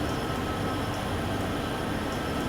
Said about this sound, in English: Oh, there is another train going on that side. Wow, that's a double-decker one.